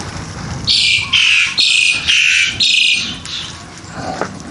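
A pet bird kept in a home in Hoi An, Vietnam squawks loudly and close by, giving five harsh, shrill calls in an even rhythm, then a fainter one, with no talking over it.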